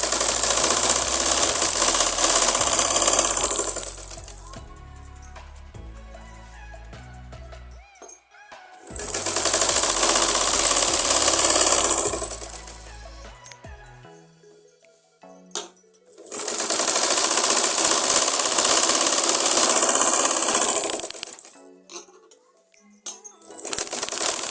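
A sewing machine stitches a belted salwar in three long, loud, whirring runs, each lasting several seconds, separated by short quiet pauses with small clicks of handling.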